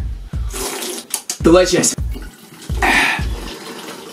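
Monster Energy drink is poured into cups in short splashing bursts, with fizzy liquid sounds between thumps as a person speaks briefly over the pouring.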